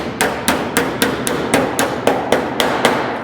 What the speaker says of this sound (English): I think I'm gonna hammer this down.